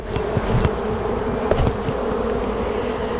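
Dense buzzing of many honeybees shaken off a hive frame fills the air, close and continuous, with a few brief knocks and clicks.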